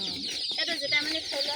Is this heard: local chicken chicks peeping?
yes